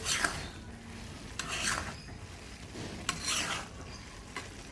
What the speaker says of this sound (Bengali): ঢাকনাটা উঠিয়ে আবার একটু নেড়ে চেড়ে দিব